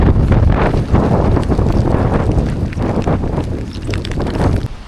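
Strong wind roars and buffets the microphone in a loud, continuous gusting rush with no pause.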